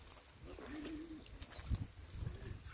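Soft low cooing of pigeons in a loft, a few rounded calls near the mic with faint rustling and a brief higher chirp in the background.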